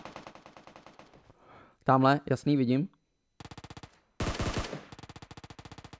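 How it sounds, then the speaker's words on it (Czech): Rapid bursts of automatic gunfire in the battle-royale game PUBG Mobile, loud repeated volleys with short gaps, alternating with someone talking excitedly over the action. "Střelba."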